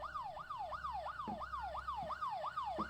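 Wailing police siren from the video game Fears to Fathom: Home Alone, rising and falling in a steady repeating yelp cycle, loud and continuous with no talk over it.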